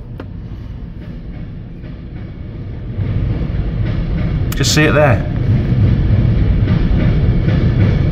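Miniature railway train running at a heritage railway museum in Crewe, a steady rumble building from about three seconds and continuing to the end, with a brief squeal near the fifth second, under talk.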